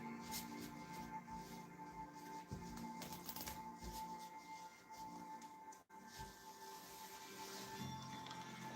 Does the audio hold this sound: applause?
no